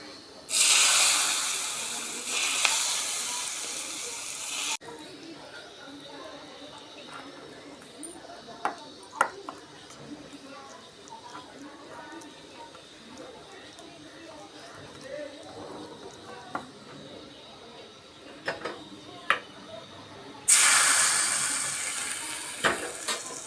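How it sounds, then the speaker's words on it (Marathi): Hot oil tempering with cumin and hing is poured over crushed garlic and green chili thecha, giving loud bursts of crackling sizzle at the start and again near the end, with quieter clicks and speech in between. "आणि अशी चरचरीची फोडणी या ठेच्यावर"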